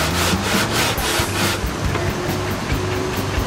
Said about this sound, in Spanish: uno marca con una tiza y vuelve con la lija